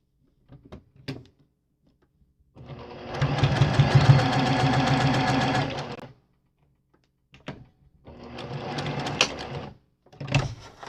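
A sewing machine stitches a floss wallet along a seam. A close, loud, whirring run of about three seconds is followed by short pauses, then a second burst of stitching. Light handling clicks come between the runs.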